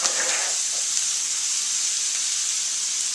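Garlic sizzles in a hot pan as it is tossed around, a steady bright hiss that holds evenly throughout with no talk.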